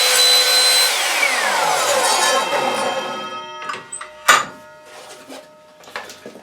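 An Evolution Rage 3S saw cuts through plastic with a loud, steady whine for about three seconds that winds down, followed by a few sharp knocks and clatters as the cut finishes.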